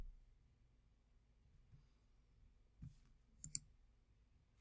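A computer mouse clicks a few times, faint and close, with a quick double click near the end over a quiet background.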